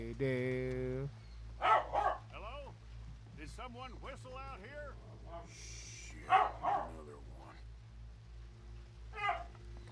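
Dogs in Red Dead Redemption 2 bark in several short bursts spread across the clip over a low droning hum, mixed with a person talking and humming.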